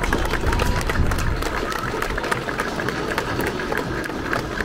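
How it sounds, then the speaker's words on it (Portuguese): A large outdoor crowd claps for the statue of Our Lady of Piety during a religious procession at Loulé's Festa Grande, producing a continuous broad wash of hand claps and crowd noise that stays fairly even for several seconds. "saudemos com uma salva de palmas"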